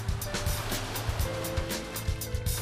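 Rough sea waves break and wash along the Vietnamese shore where round plastic basket boats are launched, making a loud, continuous roaring surf with thumps and splashes close by.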